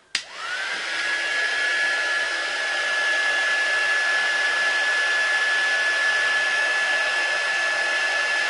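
Heat gun blowing to shrink wrap on a hamper, a loud, steady airy roar with a thin constant whine that starts abruptly and runs unbroken to the end.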